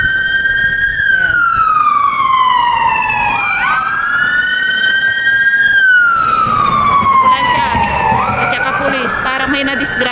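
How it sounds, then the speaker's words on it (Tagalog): Wailing sirens of police cars and an ambulance sweep past on a city street in the Czech Republic, loud and rising and falling in repeated swoops over steady traffic rumble. "Ayan na yung mga pulis, ay ambulance."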